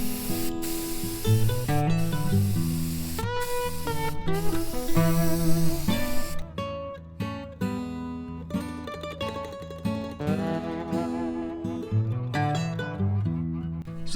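Black spray paint hisses from an aerosol can onto a toolbox in a series of repeated short and longer bursts, close and clear, with brief pauses between passes.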